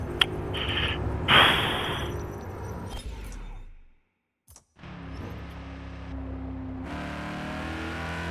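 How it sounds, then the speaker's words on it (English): A V8 car engine revving loudly in a video game, roaring and shifting pitch, cutting out almost to silence for a moment, then returning to a steady, strong drone. "how good does the V8 sound, chat?"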